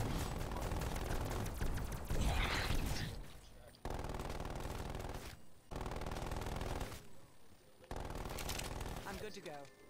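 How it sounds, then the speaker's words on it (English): A video game sentry turret firing in sustained automatic bursts, dense rapid gunfire in several long strings separated by brief pauses, loud and close. "Sentry turret going out."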